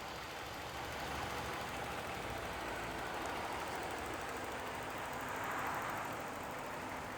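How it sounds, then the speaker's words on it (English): Idling 2011 Mercedes-Benz GL450 4Matic V8 engine shortly after a cold start, a steady, even low rumble held close and uninterrupted with no voices over it. "here you will find the V8 motor idling very happily"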